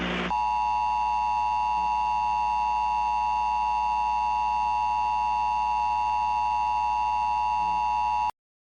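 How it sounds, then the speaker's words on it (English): Emergency alert system attention tones during a mock nuclear terrorism broadcast: a loud, sustained steady electronic tone with a sharp burst at the start, running unbroken for about eight seconds before cutting off abruptly. "We now return over to the emergency alert system."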